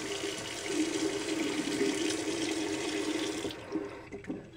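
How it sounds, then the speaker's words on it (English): Warm water runs steadily from a tap into a sink for a few seconds, a close continuous splashing rush that cuts off near the end, followed by faint handling noises. "I'm going to wet one end of this one with warm water."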